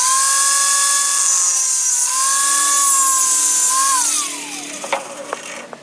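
A power tool whines steadily as it cuts through a cracked plastic hot tub pump impeller sleeve, its high pitch dipping slightly under load, then winding down with a few small clicks at the end.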